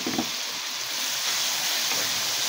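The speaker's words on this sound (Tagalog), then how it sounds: "Pagkatapos kong igisa ang sibuyas, bawang at kamatis, susunod ko naman itong alamang." Shrimp paste sautéing in a pan after onion, garlic and tomato, a continuous bright hissing sizzle with a few soft stirring scrapes early on, steady and fairly close.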